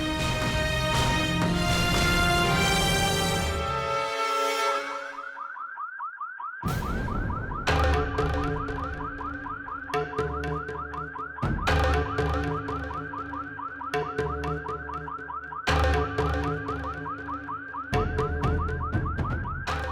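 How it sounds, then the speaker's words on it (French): A car alarm goes off loudly: a rising electronic tone first, then a brief gap, then a rapid repeating warble cycling through different patterns, steady and close with no talk. "Ce bruit, c'est l'alarme de la voiture de papa qui s'est déclenchée."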